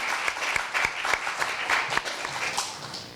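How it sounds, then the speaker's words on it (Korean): Warm applause greets the first presenter at a university speaking contest, with individual claps audible in an uneven, moderately loud patter from a modest audience. "큰 박수로 맞아주세요."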